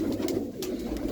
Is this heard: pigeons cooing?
yes